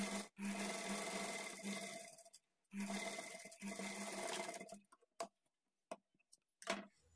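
A sewing machine stitches thread piping onto a blouse, running in two long, steady whirring bursts separated by a brief stop, then giving way to short, scattered clicks and taps of fabric handling.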